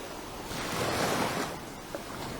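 Ocean surf washes against a seaside cliff at Fitts Village, Barbados: a broad, steady roar that swells and eases over a couple of seconds, with some wind noise and no voices.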